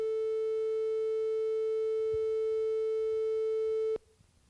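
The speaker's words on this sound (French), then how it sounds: "C'est un La, c'est le La 440 du diapason" A tuning fork sounds a pure, steady A 440 tone, clear and unwavering for about four seconds, then stops abruptly, leaving faint room noise behind.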